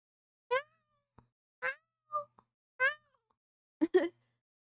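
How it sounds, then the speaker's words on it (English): A kitten gives a series of short, high meows, five or so separate cries spaced about a second apart with a couple of soft clicks between, close and clear against a silent background. "Good meowing."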